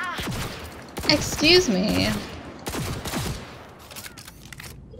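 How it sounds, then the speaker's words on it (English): Rapid bursts of incendiary gunfire in Cyberpunk 2077 crackle through a busy firefight, with loud clustered shots and fiery bursts, while a voice briefly speaks over it. "this gun makes people on fire too"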